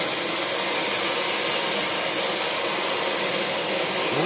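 Cutting torch washing out a weld down toward a bottom plate: a loud, constant roaring hiss of gas and oxygen jet, unbroken and close, no voices.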